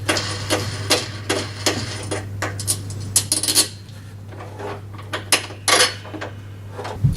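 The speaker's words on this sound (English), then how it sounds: "To assemble the handle, the first step is to remove the 4 bolts, washers and wing nuts." Bolts, washers and wing nuts come off the handle of a Hyundai HYM460SPE lawn mower as sharp, close metallic clinks and taps, irregular and spaced out over a low steady hum.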